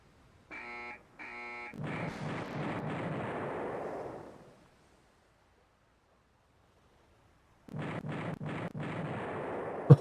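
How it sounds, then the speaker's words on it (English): Naval gunfire in the video game Rule the Waves 3, a few sharp electronic beeps followed by a sustained rattling burst of shots that fades out, then after a silent pause a second rapid rattling burst. "Sounds like a machine gun."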